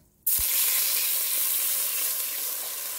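Loud sizzling of food hitting a hot pan while making tamales, starting abruptly and holding a steady bright hiss, close and alone.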